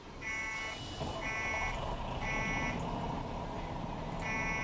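Repeating electronic alarm tones in the Emergency 4 firefighting video game, a Bushton mod, sounding in evenly spaced bursts over steady low engine and ambient rumble, with no talk.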